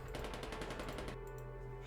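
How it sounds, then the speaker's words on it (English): Rapid bursts of gunfire and explosions from the video game Nikke, a dense rattling volley over a low rumble that cuts off and leaves a faint hum. "I heard the deafening sound of explosions and gunshots from outside"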